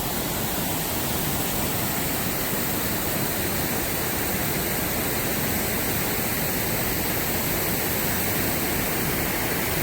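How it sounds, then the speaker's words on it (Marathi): Powerful foaming waterfall at Dhutpapeshwar in Rajapur, Konkan, pouring with a constant, loud, dense roar close at hand, unbroken and without voices. "त्यामुळे धबधब्याचा जोर जबरदस्त जास्त आहे. आवाज तुम्ही ऐकू शकता."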